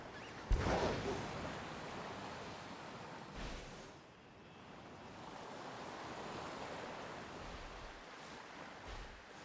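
Ocean surf washes steadily onto a beach in the game Pokemon Violet, a continuous rolling hiss with a few swells and some wind noise, with no talking.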